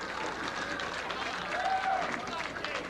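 Crowd cheering and applauding at a candlepin bowling alley after a strike right on the head pin, a steady, dense roar of clapping and voices filling the whole moment.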